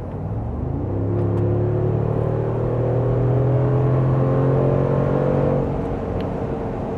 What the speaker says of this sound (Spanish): aquí adentro lo que yo pudiera hacer es acelerar de momento para que ustedes ya empiecen a sentir la reacción de la bestia